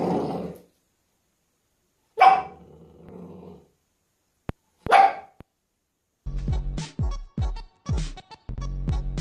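A dog with expressive eyebrows growls and barks in several close, loud bursts, with silent gaps between, ending in a quick run of deep, rough barks.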